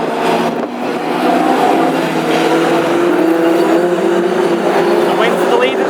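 Classic hot rod race cars at Northampton roar past on the track, a loud sustained engine drone that rises and holds as they go by, with a commentator talking over it.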